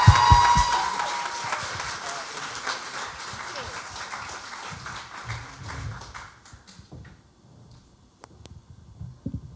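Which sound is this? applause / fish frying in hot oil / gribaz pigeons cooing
applause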